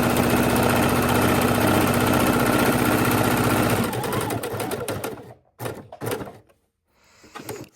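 A sewing machine runs steadily while stitching around a quilted potholder, keeping a uniform distance from the edge, then slows and stops in short bursts near the end. It sounds close and loud, with no talking.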